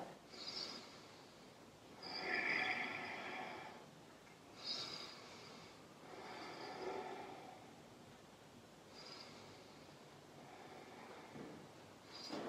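Slow, audible breaths during a yoga twist come in long, close inhale-and-exhale swells, around four or five spread evenly across the stretch, quiet and unaccompanied by speech.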